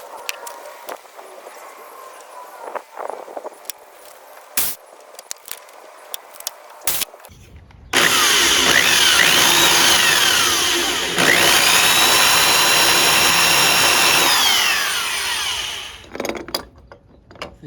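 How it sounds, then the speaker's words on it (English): A power drill bores holes in metal during a racing mower build. Scattered clicks and handling noises give way to two loud, close bursts of high-pitched drilling, the first lasting several seconds and the second running longer before spinning down. "let's get started with drilling these holes here"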